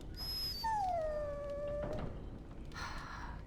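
A dog whimpers in the Dragon Age Origins video game, a drawn-out falling whine with a thin high tone before it, over a steady background ambience, followed by a brief rustle.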